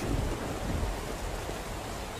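Steady, dense rain with low rumbling thunder from the SCUM video game, continuous and broadband with no voices.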